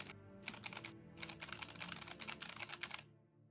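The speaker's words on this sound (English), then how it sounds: "I'm not gonna hear nothing but my keyboard clacking" Computer keyboard keys clacking in quick bursts of rapid typing, close to the microphone, with a brief pause in the middle and no voices.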